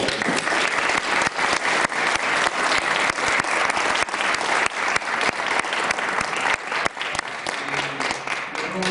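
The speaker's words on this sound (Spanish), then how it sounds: "para él pido un aplauso" A crowd applauds, with dense, sustained clapping that stays loud and even for several seconds.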